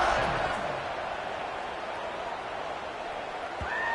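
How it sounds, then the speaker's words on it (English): Football stadium crowd at a Virginia Tech vs Boston College game buzzing after a score, a steady broad roar of many voices holding at an even level throughout, with a commentator's voice over the top. "this crowd is buzzing after that last score"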